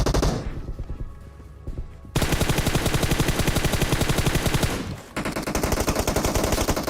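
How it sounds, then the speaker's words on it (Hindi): Rapid automatic gunfire from a squad in the mobile battle royale game PUBG Mobile, with bursts rattling almost continuously, a short lull near the start and another brief pause before the loud volleys resume. "सामने से फायरिंग की साउंड आने लगी थी"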